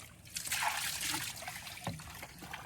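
Water trickles and splashes steadily while a fishing boat is washed out after a creek fishing trip, with a brief thud near the end and no talk.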